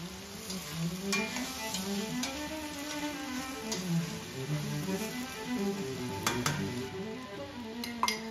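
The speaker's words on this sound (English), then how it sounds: "I'm adding diced white onions. I'm using half a medium-sized onion." Half a medium white onion, diced, frying in a pan: a steady low sizzle runs throughout, broken by occasional light clinks of utensil against the pan. No one speaks.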